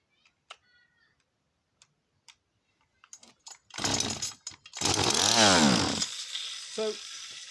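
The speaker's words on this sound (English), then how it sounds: "So if I put a tiny bit of fuel into the carburetor and then pull her over, let's see." A Husqvarna chainsaw, one of a batch of project or spares saws, is pull-started with a little fuel in the carburetor: a few faint ticks, then loud rasping starter pulls and a brief burst of engine firing.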